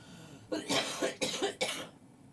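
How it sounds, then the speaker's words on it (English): Three harsh coughs in quick succession, close and fairly loud, with quiet room tone before and after. "And then I cough."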